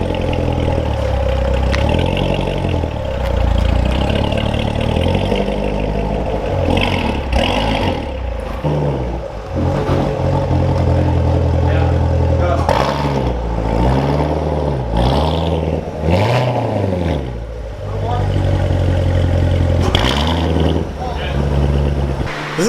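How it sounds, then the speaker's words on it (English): Chevrolet Corvette engine idles and revs briefly while backing into a garage after being lowered, a close low rumble with clattering under frequent talking. "we're about to back the Corvette right back in here"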